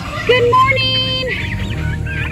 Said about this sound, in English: there is the bantam chicken that thinks it's a duck.